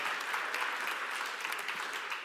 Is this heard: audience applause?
yes